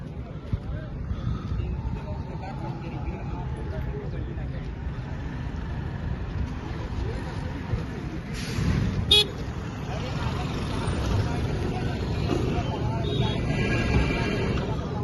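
Car horns honk now and then through a steady wash of stalled traffic in a long jam on the road near the Kumbh Mela at Prayagraj. Wind rumbles across the microphone, and one sharper honk stands out near the middle.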